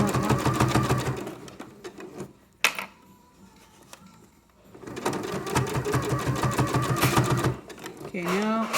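A sewing machine runs a quarter-inch seam along the edge of a jelly roll rug tube, whirring loudly in two long bursts separated by a short pause with a clack, with a voice speaking over the stitching.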